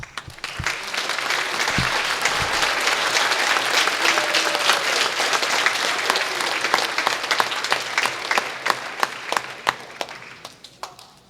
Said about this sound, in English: We can all give you a huge round of applause.